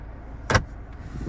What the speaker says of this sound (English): Glove box is nicely dampened and quite large and actually flocked on the inside.